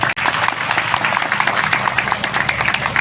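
Villagers at a Maulid Nabi celebration in Sungai Kinjil applaud, a brief, moderately loud spell of scattered clapping that carries on evenly throughout.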